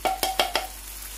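Tomato and green chili paste hits frying onions in a pan, giving four quick rhythmic sizzling stirs close up, each a short hissing swish fading into a soft sizzle, with no one talking.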